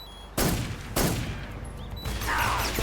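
Gunshots in the video game Metal Gear Solid 3: three sharp, loud reports spaced roughly half a second to a second apart, each trailing off into a noisy battlefield background.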